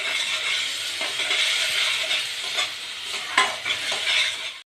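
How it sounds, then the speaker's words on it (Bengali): Beaten sour yogurt stirred continuously into a spice masala in a pan for fish-stuffed potatoes, giving a bright, steady hiss of frying with intermittent scraping strokes, close and even throughout. "টক দইটা দিয়ে অনবরত এটা নাড়তে হবে।"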